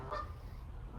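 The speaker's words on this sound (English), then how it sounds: "as we hear the geese singing along with us" A goose gives a short honk, faint and distant, over a quiet low background.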